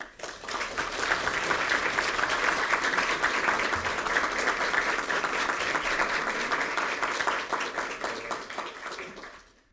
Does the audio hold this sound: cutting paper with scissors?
no